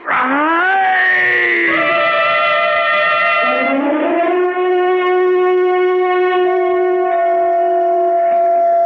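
An ambulance siren in a radio drama wails loud and close, its pitch sliding up and down before settling into a long, steady, ringing tone that carries on without any voices.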